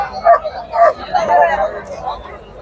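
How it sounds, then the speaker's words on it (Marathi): German Shepherd puppies yip and bark at a crowded village fair, a few short close barks and whimpers over steady background chatter and crowd babble. "माळेगावच्या यात्रेमध्ये जर्मन शेफर्डचे पिल्ले घेऊन आलेले आहेत आता"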